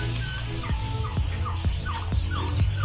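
Four-day-old Itik Pinas ducklings, Kayumanggi and Khaki, in a brooder give a steady run of high, short peeps and chirps, close by and fairly loud over a constant background hum.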